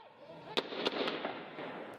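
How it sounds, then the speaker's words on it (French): Explosions and gunfire ring out during an attack on the Hôtel Splendide in Burkina Faso, heard as several sharp, distant cracks and bangs over a dense, noisy wash of background sound. "Des explosions et des tirs retentissent devant l'hôtel Splendide"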